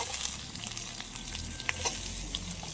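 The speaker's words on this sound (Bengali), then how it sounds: "রসুন সবগুলো একটু ভালো করে ভেজে নিই" Ginger, garlic and spices fry in a pan for chicken kosha, a dense close sizzle with light stirring scrapes and a few sharper pops over a low background rumble, no speech.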